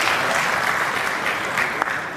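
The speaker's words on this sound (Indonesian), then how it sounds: "Tepuk tangan." An audience at a PSSI football association event applauds. The clapping is dense and steady, at a moderate distance, with no talk over it.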